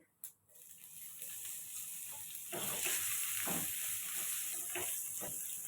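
Ingredients with asafoetida frying in hot oil for Telugu gongura chutney, a steady broadband sizzle that swells louder after a short quiet start, with scattered stirring scrapes and crackles throughout.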